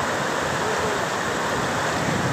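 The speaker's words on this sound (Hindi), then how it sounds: "भाई पानी देख लो जमा 100 की स्पीड पे चल रहा है" Fast-flowing floodwater near Fatehabad, Haryana, a dense, continuous rushing roar that fills the whole stretch at steady, loud level.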